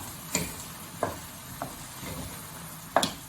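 Chilli con carne being stirred in a pan, with a few distinct scraping strokes over a quiet, steady sizzle at close range.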